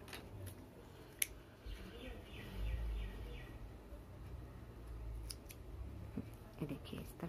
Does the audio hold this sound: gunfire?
no